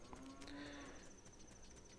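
A single low moo from cattle in the video game The Legend of Zelda: Ocarina of Time, played on a quiet TV, faint and somewhat distant, followed by quiet background hum.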